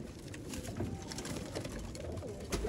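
A group of teddy pigeons keeps up a steady low cooing, overlapping throaty calls close by with faint background rustle and no talk.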